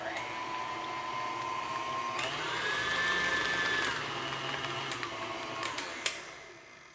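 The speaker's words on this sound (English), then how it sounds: "go ahead and turn your mixer on medium and mix that up" Electric stand mixer whirring on medium speed through cookie dough made with an egg and vanilla, a steady close motor whine whose pitch rises briefly mid-way and then drops, ending with a few clicks.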